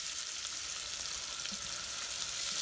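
Onion frying in oil over a slow medium flame for green dal, a soft, even sizzle that hisses steadily throughout with no talking.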